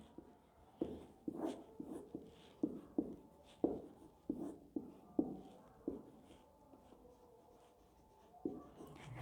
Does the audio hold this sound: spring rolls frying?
no